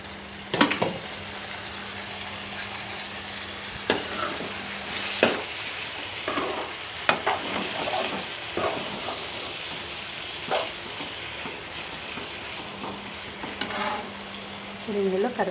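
Ivy gourd curry is mixed and cooked in a pan: a soft, continuous frying sizzle with repeated, irregular scraping strokes from stirring, close by and with no talking.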